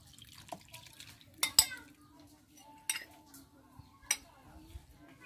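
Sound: mixing chopped herbs into sausage filling in a bowl

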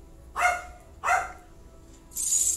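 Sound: dogs barking

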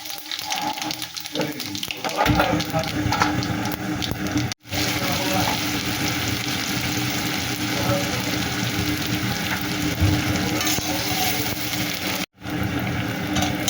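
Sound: chillies and panch phoron sizzling in oil in a kadai

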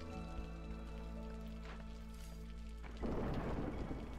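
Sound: thunder and rain in video game Against the Storm

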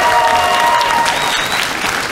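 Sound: audience applause

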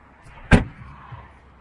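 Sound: door slamming

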